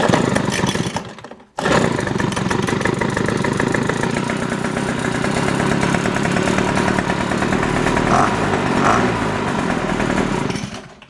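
A Troy-Bilt jet leaf blower's small gas engine runs at a loud, steady buzzing drone. It cuts out briefly near the start, then resumes and holds high revs until the end.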